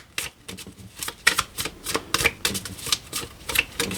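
Tarot cards are shuffled and cut, a close, dry run of rapid riffling flutters and taps in quick irregular bursts, with no talking.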